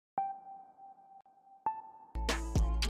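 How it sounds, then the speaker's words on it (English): A plucked synth tone in the style of a song sounds alone and fairly quiet. It plays two clean, decaying notes, one after the other, before louder full-track music cuts in near the end. "the identical plucking sound. And it plays these two notes"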